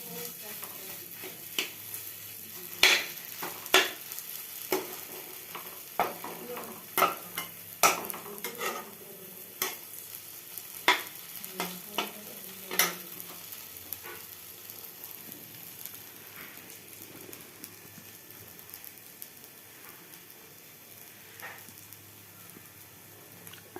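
Food being stirred in a frying pan, browning as it fries: a steady close sizzle with repeated scraping and clinking strokes of the spoon against the pan throughout.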